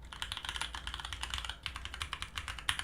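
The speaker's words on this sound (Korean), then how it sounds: "이 매트릭스 키보드 얘는 그렇지는 않고 좀 더 건조한 소리가 나지만 좀 더 명쾌한 소리가 나면서" Typing on a Matrix Abel custom mechanical keyboard, a quick run of crisp, dry key clacks in an uneven rhythm, close and clear, with a short pause midway and no talking.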